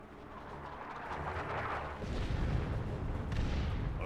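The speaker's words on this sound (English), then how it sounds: "Launch barrage! Artillery, clear the area." Artillery barrage falls in Warhammer 40k: Dawn of War 2, a sustained roll of heavy rumbling blasts and crackling impacts that grows louder midway and stays dense to the end, with no voices.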